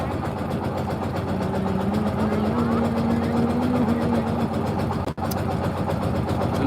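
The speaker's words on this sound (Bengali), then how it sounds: "ওই যে সামনে থেকে আরেকটা বোট আসতেছে" A motorboat on the Balu river drones steadily nearby, its engine pitch rising gradually as it approaches, with water and wind noise underneath and a brief dropout near the end.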